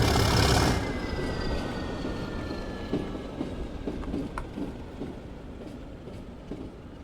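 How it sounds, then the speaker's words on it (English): A locomotive in the Train Sim World 2 video game pulls slowly up to couple onto passenger coaches, giving a steady low rumble with faint, sparse rail clicks and no talk. "So now that we've nearly coupled to the coaches, you just need to release the brake, turn the headlights off, and gently pull up to him."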